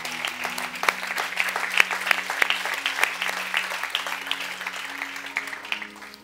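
A church congregation applauds during an evening service, a dense, steady wash of many hands clapping at moderate distance for several seconds, with a low sustained organ or keyboard tone humming beneath and a few sharper claps standing out.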